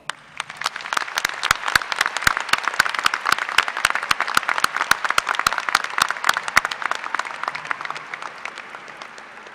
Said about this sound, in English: Will you please join me in taking a moment to recognize them with a round of applause?